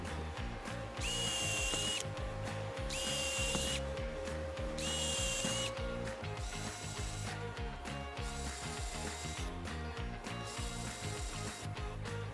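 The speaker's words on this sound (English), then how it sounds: "Clamp the two pieces together and drill pilot holes." A power drill bores pilot holes through two clamped wooden pieces of a miter saw jig, whining in several repeated bursts against a steady mechanical whirr in a workshop.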